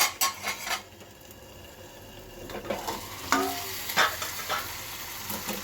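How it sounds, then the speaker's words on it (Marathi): Potato bhaji is stirred in a pan once the lid is off, bringing a few clinks and scrapes of the utensil over a soft sizzle, close by, with a quieter stretch between bursts of stirring. "झाकण काढून परत एकदा मी परतवून घेत आहे भाजी."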